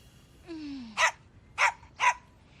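A cartoon dog in an animated series barks three times, loud and close, with short pauses between, after a brief whining tone.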